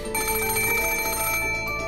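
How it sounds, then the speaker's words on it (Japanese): An old telephone bell rings in a continuous, bright metallic trill, loud and close, with no talking over it. "トロ、おばさん、何かの理由で電話が回復したのかも"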